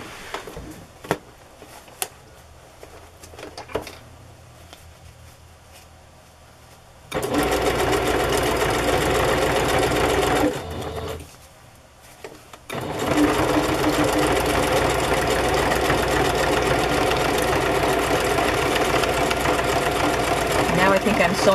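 A sewing machine stitches through a collaged fabric journal cover, running in two sustained loud bursts with a short pause between them, after quieter handling sounds and brief talk at the start.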